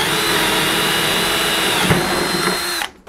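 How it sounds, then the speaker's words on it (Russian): A Stanley screwdriver drill bores into wood with a 10 mm wood bit, a steady close whining drone running continuously before cutting off abruptly near the end. "Сверлим Стэнликом."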